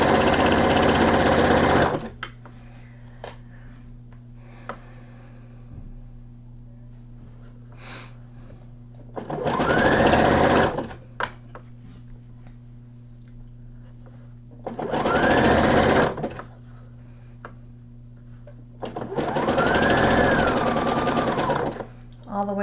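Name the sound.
sewing machine stitching lace on a night gown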